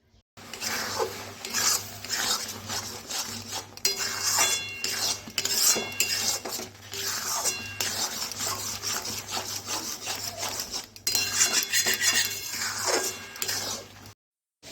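Semolina dry-roasting in a pan while being scraped and stirred, giving a continuous gritty rubbing and scraping with frequent utensil clinks. It stays fairly loud through most of the stretch, with no talking.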